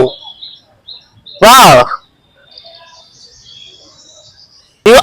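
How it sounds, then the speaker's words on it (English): A bird calls while flying over a park: thin, high chirps scattered across a few seconds, faint and distant, with a person's loud exclamation and a brief voice at the end. "This bird flying."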